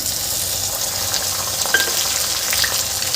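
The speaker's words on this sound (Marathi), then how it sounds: "आता यामध्ये आपल्याला हे जे आपण हिरवं वाटण केलं होतं ते घालायचं आहे" Green masala paste fries with browned onions in a pan, giving a close, steady, loud sizzle with a few stirring scrapes near the end.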